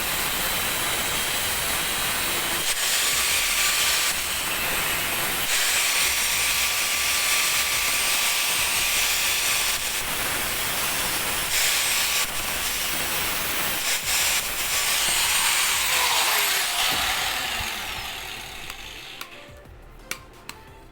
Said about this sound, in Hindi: और हम लोग इन एक्स्ट्रा पेंचों को दोस्तों काटेंगे ग्राइंडर की मदद से।